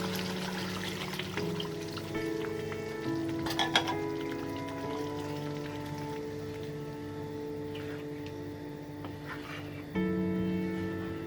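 Water being poured into fried masala in a pan while cooking shahi gobi kofta, a steady watery trickle and sizzle running throughout with faint background music tones, moderately loud and close.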